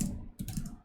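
Quick burst of typing on a computer keyboard, a few soft close key clicks in rapid succession.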